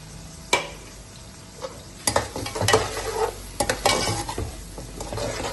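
Whole spices such as cinnamon, cumin seeds, dried red chilli and green cardamom go into hot oil for chicken pulao, sizzling under repeated spoon stirring and scraping against the pot, with a few sharper clanks.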